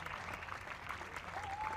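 Steady mass clapping fills a Berlin football stadium as Spain's players applaud the crowd, a continuous, distant roar of hands and crowd noise with no voice on top.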